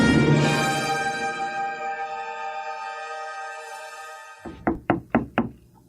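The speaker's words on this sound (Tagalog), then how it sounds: "May kumakatok." Four quick, sharp knocks on a door sound close and loud in a Filipino horror drama, following a sustained ringing tone that slowly fades away.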